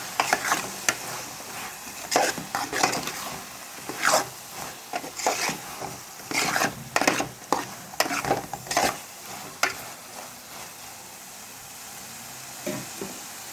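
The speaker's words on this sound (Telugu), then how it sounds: "అన్నీ కలిసేలా కలుపుకుందాం." A spoon stirs chili powder through a drumstick and tomato curry in a pan, with repeated close scraping strokes in an uneven rhythm over a soft sizzle, no talk.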